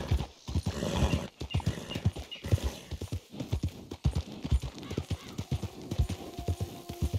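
Rapid, rhythmic hoofbeats of a galloping horse in Red Dead Redemption 2, close and steady, with a brief whinny mixed in and no talking.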